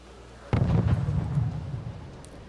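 A Malka self-propelled artillery gun in Wargame Red Dragon fires once: a sudden heavy boom followed by a rumbling, decaying tail, fairly loud and with no talk over it.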